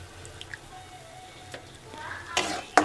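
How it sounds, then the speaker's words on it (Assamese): Palak paneer ingredients fry with salt in a pan, giving a soft sizzle with stirring scrapes and a few sharp utensil clinks near the end. "নিমখ দি এনেকৈ অলপ অলপ কৰি ফ্ৰাই কৰি আছোঁ"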